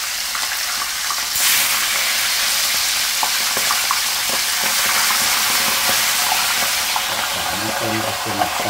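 Food frying in a pan in a home kitchen, a steady bright sizzle with occasional stirring clinks and scrapes, close and continuous throughout.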